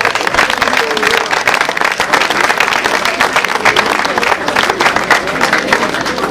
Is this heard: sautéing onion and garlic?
no